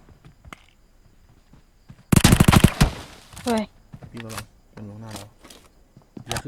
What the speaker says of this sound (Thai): คนยิงนะ เราไม่เห็นอะ